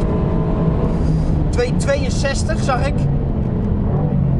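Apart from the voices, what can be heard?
Mercedes-AMG GT R Pro engine at full throttle on straight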